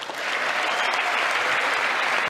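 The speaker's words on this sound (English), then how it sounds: "What are people clapping for?" Sustained audience applause fills the room during a speech, a dense, steady wash of clapping hands at full loudness from start to finish with no break.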